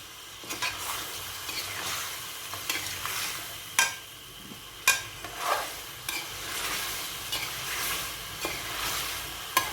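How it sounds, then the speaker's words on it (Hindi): Mutton pieces for mutton karahi frying in a pan, loud close sizzling with repeated sharp scrapes and knocks of a spoon stirring them, steady throughout with no talk. "यखनी साइड पे रख लेंगे, इस तरह भून लेंगे"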